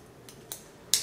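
Scissors cut hair in a panel-by-panel basic one-length haircut, giving three quick, crisp snips close up, the last one loudest, over a quiet room.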